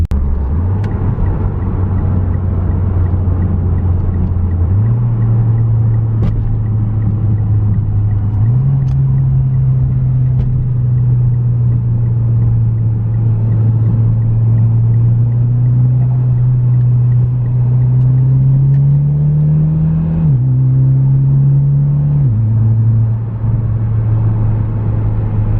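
A Mitsubishi Lancer Ralliart on the road, heard from inside the cabin as a steady low engine rumble stepping up in pitch through gear changes, constant and close for the whole stretch, with no talking.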